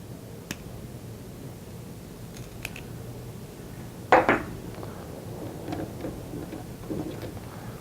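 Glass ends of a thermal desorption tube being snapped off by hand, a few small clicks followed by one sharper crack and a quick second snap midway, then faint handling ticks in a quiet room.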